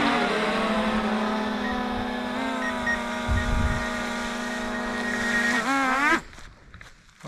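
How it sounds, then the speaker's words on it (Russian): Enemy drone flying close by, a steady high buzzing whine with layered motor tones that holds for about six seconds, then shifts pitch and cuts off abruptly, leaving quieter rustling. "Вражеский беспилотник."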